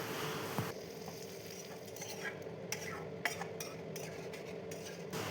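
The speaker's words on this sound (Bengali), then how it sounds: "চিকেনগুলো যখন এইভাবে ভাজা হয়ে আসবে" Marinated chicken sizzles in a masala curry in a pan, a close, continuous fry with scraping stirs and a few metallic clinks of the utensil against the pan, and no talking.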